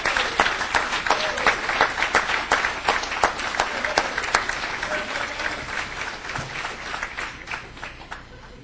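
Sustained applause from an audience at a semi-pro football Hall of Fame induction ceremony, honoring past inductees standing in the crowd; steady dense clapping of many hands lasting throughout, moderately loud and fairly close.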